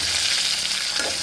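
Onion and tomato frying in a pan, a dense, loud, continuous sizzle with stirring throughout and no voices.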